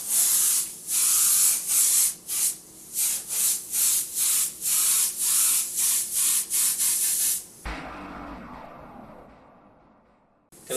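An airbrush sprays red paint in a rapid series of short hissing bursts, loud and close, then breaks off into a quieter fading hiss with faint rustling near the end.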